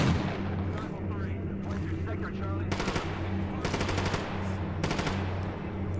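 Bursts of rapid automatic gunfire in a video game, distant-sounding volleys that come and go over a steady droning background, with faint game ambience throughout.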